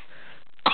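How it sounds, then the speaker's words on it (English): A small girl gives one short, sharp cough right at the end of a near-silent moment, close and fairly loud. "don't cough on the apple."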